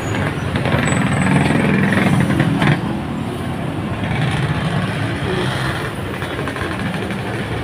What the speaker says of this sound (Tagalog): Ay, traffic.